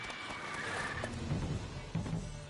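Roach the horse neighs in Witcher 3, a short whinny rising near and fairly loud, with a few hoof-like thuds and a rumble underneath.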